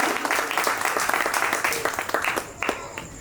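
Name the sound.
audience clapping at a Hindi poetry gathering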